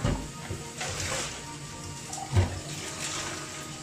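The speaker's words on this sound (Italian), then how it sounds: "cioè proprio la immergo nell'acqua vedete è proprio immersa" Water sloshes and splashes continuously as a potted orchid is dunked in a container of water, with a steady close watery wash and a brief louder splash midway.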